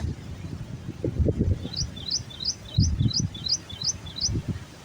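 Outdoors in green rainy countryside near Karad, Maharashtra, by flowing water, a bird gives a quick series of about eight bright, evenly spaced chirps over low rumbling background noise.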